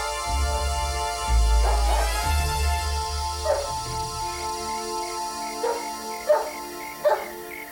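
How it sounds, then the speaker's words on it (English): A dog barks outdoors a short distance away, several sharp barks and yips scattered over a low rumbling background, coming louder and closer together toward the end. "It's nobody, just a dog."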